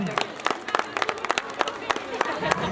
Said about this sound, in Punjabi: ਇੱਕ ਜ਼ੋਰਦਾਰ ਤਾੜੀਆਂ